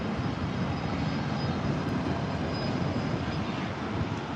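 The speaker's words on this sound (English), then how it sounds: "Will it be a American plane or another Southwest coming in?" Southwest Airlines passenger jet flying in to land at LAX, a steady broadband engine roar heard from a distance, fairly faint and even throughout with no voices.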